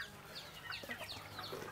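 Chickens on an organic poultry farm in Africa cluck softly and repeatedly in a quiet, ongoing murmur of short calls, with no voices.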